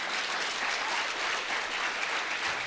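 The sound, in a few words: audience clapping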